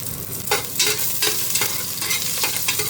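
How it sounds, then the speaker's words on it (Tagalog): Garlic and ginger sauté in a hot pan while cooking chicken tinola, giving a steady close sizzle with several brisk scraping stir strokes spaced through the clip. "gisa lang natin yung bawang, luya, common na luto"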